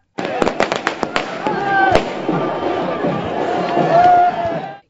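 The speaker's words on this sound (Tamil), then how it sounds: "அங்கும் இனிப்பு வழங்கி பட்டாசுகளை வெடித்தனர்." Firecrackers burst at a street celebration outside a residence in Poes Garden, with rapid loud cracks and pops, a sustained crackling roar, and crowd chatter and speech beneath.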